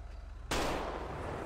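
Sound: gunshot in GTA 5 video game

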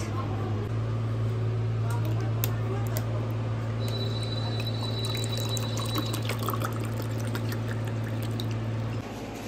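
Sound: water being poured from a bottle

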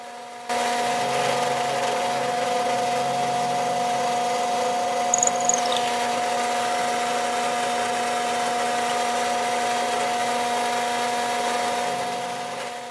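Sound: drill countersinking holes in wooden spreader

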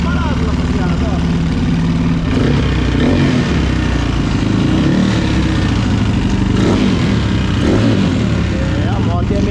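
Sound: Honda Pop motorcycle with 285cc Titan 150 engine running

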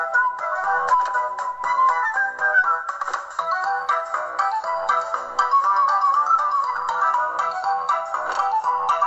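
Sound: Angry Birds video game sound on Samsung Galaxy J3 phone

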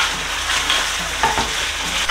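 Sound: pork ribs frying in sweet and sour sauce

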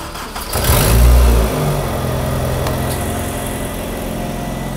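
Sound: VAZ-2109 car engine starting and revving

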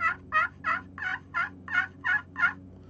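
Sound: turkey call imitating a gobbler

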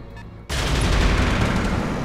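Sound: gunfire in the video game Roguepoint

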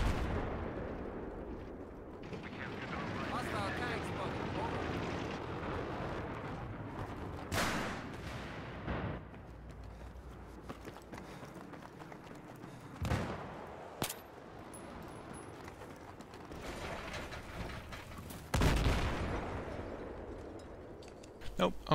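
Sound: gunfire and explosions in Battlefield 3 video game

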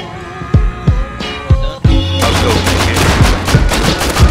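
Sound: gunshots from the video game Rust

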